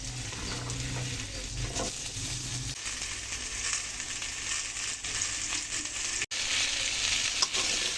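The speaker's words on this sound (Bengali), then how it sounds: "এখন আমি আলু দিয়ে দেবো আলুগুলোকে ভেজে নেব" Potatoes frying with salt and turmeric in a pan, a continuous close sizzle with occasional stirring, no talk.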